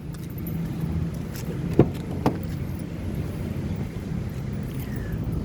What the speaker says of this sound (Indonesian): Nih, sekarang kita coba buka mobil. Kita buka mobil, sekarang kita coba masuk ke dalam.